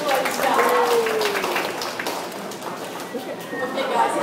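An audience claps throughout a dolphin show, a steady patter of applause that fades a little midway, with faint voices and water sounds mixed in.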